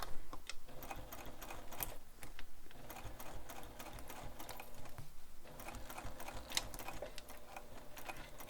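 A sewing machine stitches a handbag in quick rapid bursts of mechanical clatter and ticking, pausing briefly between runs, close and fairly quiet, with no talking.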